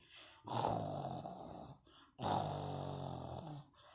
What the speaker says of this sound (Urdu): وہ بڑے مزے سے گہری نیند خراٹے لے کے سو رہا ہوتا ہے۔